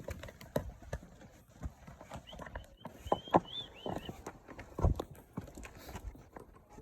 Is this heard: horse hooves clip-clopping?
yes